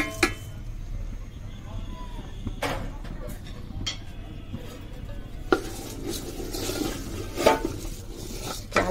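Soaked polao rice tipped into a pot of spiced chicken masala, a rustling, sizzling pour with scraping, nearby kitchen clatter and stirring.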